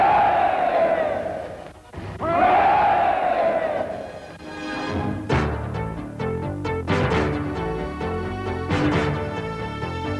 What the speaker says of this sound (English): called on the crowd to give him 3 special cheers, which they did with a will